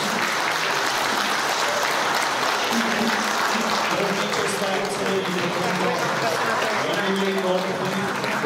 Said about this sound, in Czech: Tak ještě jednou bych vás poprosil potlesk pro drobotinu z Hesovic.